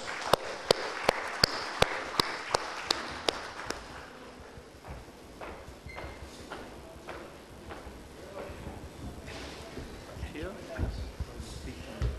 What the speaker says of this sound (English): Please, a round of applause, Mr. Kul Bhushan.